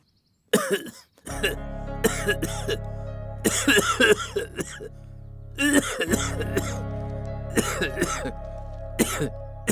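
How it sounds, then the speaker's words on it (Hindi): A man coughs harshly and repeatedly in a film scene, bursts of hacking coughs and throat clearing in close, loud fits separated by brief gaps, with a low music bed underneath. "ए, खास खास के ये मर जाएगा, मुझे ऐसा लग रहा है।"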